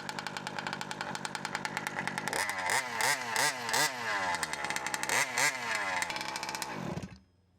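A Zenoah RC gas engine running after being unflooded with needles reset to factory settings, a loud buzzing two-stroke that rises and falls in repeated revving sweeps before cutting off abruptly near the end.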